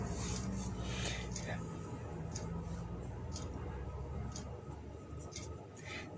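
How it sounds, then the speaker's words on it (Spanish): A soft paintbrush strokes back and forth over a surface being decoratively repainted while the underlying coat is still wet. It makes a steady, close, continuous rasping swish with no pauses. "el pincel suave va y viene"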